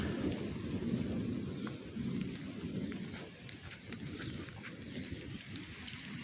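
Steady rain falls outdoors on a rainy day in Adigrat, Tigray, a dense continuous hiss with scattered drops close by and a low rumble beneath, no talking.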